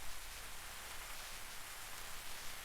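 Heavy rain pours in a dense, even hiss, steady and continuous without breaks, fairly soft overall and heard alone.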